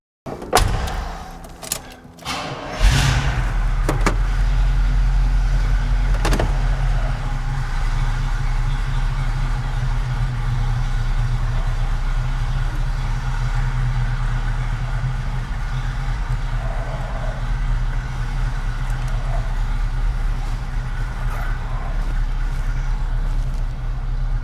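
A few door clunks and rattles from a 1978 Chevrolet K5 Blazer Cheyenne 4x4 with 29,000 miles, then its engine fires up and settles into a steady, close idle.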